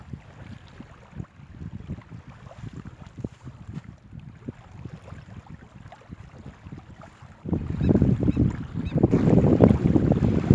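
Strong wind with rain buffets a reservoir shore, a steady rushing gust noise that swells sharply louder in the last few seconds, close to the microphone with no talk.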